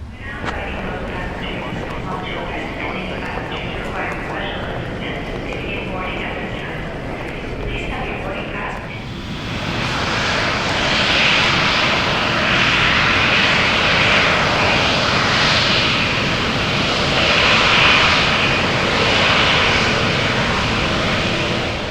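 Boeing 777 jet engines taxi in Microsoft Flight Simulator, a continuous loud broadband roar that swells about halfway through as thrust increases and then holds steady.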